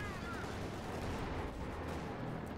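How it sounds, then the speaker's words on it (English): Nearby artillery fire in the video game Company of Heroes 2 makes a dense, rumbling barrage of blasts that blurs into a continuous roar, heard fairly faintly. "they're taking a nice hit from the nearby artillery"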